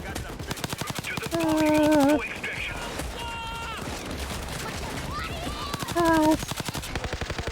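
Gunfire in the cartoon-animal battle royale game Super Animal Royale, with sniper rifle shots, comes as steady rapid cracks throughout, loud and close, while a voice cries out over it.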